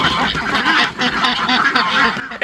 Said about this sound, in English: Dabbles doesn't mind the ducks whenever they're all on time